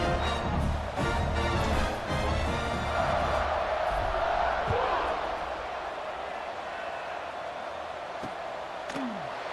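Football stadium crowd at a college game between UNC and Louisville, a broad sustained roar of cheering that stays loud and then eases slightly, with announcer-style talk running over it.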